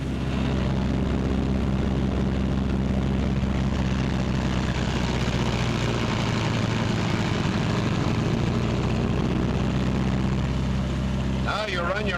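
Twin-engine B-26 bomber on the ground, one engine throttled back to 1,400 RPM during run-up, a steady loud droning propeller hum with constant low harmonics throughout.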